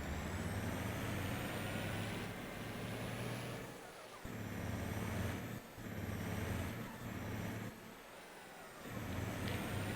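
A truck engine drones steadily while driving in Farming Simulator 22, a loud continuous rumble that dips briefly several times as if shifting or easing off, with no talking.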